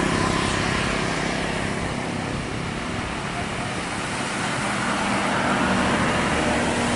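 A premium intercity bus passes on an Indonesian road, its broadband engine and tyre roar steady and fairly loud throughout, with constant traffic noise around it and no clear speech.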